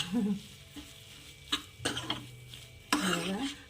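Sweet potato halwa being stirred in a pan over medium heat, with a few scraping, clinking strokes of a spoon against the metal at close range in a quiet kitchen.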